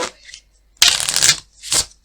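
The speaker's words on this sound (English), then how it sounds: "once the deck has been shuffled, you're going to take the deck back" A deck of playing cards shuffled for a card trick, with a short riffle burst, a longer loud flurry of cards, then a final quick rush, close and clear with no talking.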